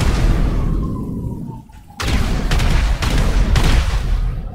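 Cannon fire in the GTA 5 video game, a loud booming blast followed by rapid repeated shots and rumbling explosions at close range.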